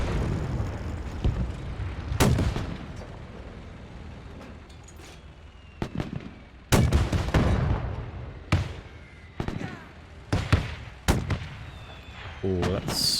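Gunfire and artillery blasts in the World War II strategy game Men of War 2: sharp, loud bangs and booms arrive in irregular bursts, some close together, over a low rumbling battle background.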